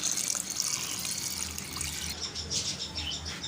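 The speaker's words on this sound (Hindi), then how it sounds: "कढ़ाई के अंदर शामिल करने के बाद इसके अंदर 3 गिलास जो है वो पानी के शामिल करेंगे" Three glasses of water pour steadily into a karahi for mutton karahi, a continuous close splashing rush that changes slightly in tone toward the end.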